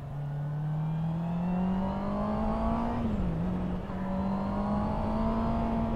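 A Honda CB650R motorcycle engine hums steadily while riding, a smooth sustained drone with a brief dip in pitch midway, under constant wind rush.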